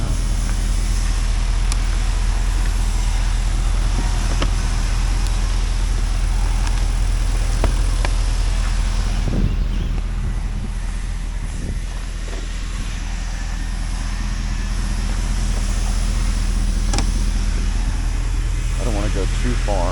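A 2005 Chevrolet Corvette with the LS2 engine, a parted-out salvage-yard car, runs steadily as it is driven slowly around the yard, with a constant low engine drone, light clunks and someone talking over it.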